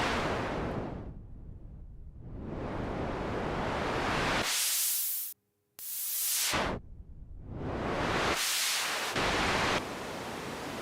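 Broadband lo-fi noise from the Artifacts app on an iPad plays as loud, steady hiss in repeated swells, cutting out briefly near the middle before surging back in; no voices.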